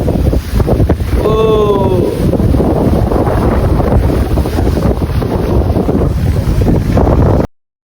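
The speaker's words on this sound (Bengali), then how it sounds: "বিশাল হাওয়া দিচ্ছে মাঠে" Strong wind roars across an open field, buffeting the microphone with loud, constant rumbling gusts; a brief voiced call sounds early on.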